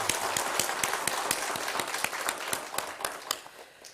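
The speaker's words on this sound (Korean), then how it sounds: "우리 사랑과 또 격려 박수 한번 치겠습니다" Church congregation at a deaconesses' dedication service gives a round of clapping, steady hand claps with some sharp individual claps standing out, fading over a few seconds.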